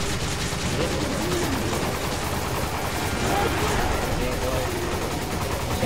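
Dense, continuous gunfire from the video game Resident Evil 5, rapid shots blending into a constant roar that fills the whole stretch, with a voice talking over it.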